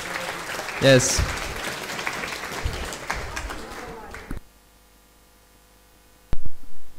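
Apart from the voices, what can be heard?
audience applause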